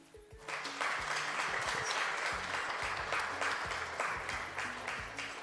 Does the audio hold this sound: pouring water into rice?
no